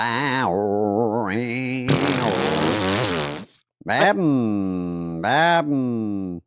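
A voice imitates a motorcycle engine in a comedy podcast, with three growling, revving bursts separated by short pauses, loud and close.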